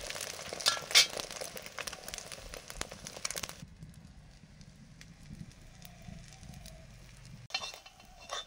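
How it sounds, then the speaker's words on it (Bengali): Beaten eggs with onion and green chilli frying in mustard oil, a loud crackling sizzle for the first few seconds that drops to a quieter, steady hiss of cooking, with no talking. "ডিম ফেটিয়ে নিয়েছি, পেঁয়াজ আর কাঁচা লঙ্কা দিয়ে এবারে ভাজবো।"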